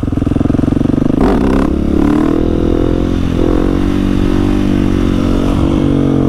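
A KTM 701 motorcycle engine revs hard and steadily during wheelie practice with rear-brake control, a loud close drone with pitch swells and dips as the throttle opens and closes, plus some mechanical clatter.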